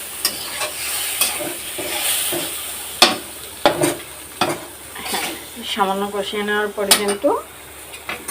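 Browned onions with spices added are stir-fried in a pan, sizzling loudly under clattering utensil scrapes and knocks against the pan, with brief talk in between.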